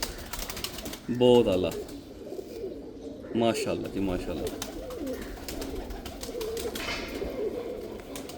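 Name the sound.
pigeons cooing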